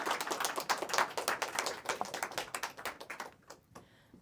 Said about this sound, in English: Please, big applause to Alexander.